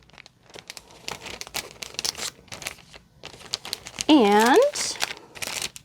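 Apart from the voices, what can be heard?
crinkling of plastic protective bags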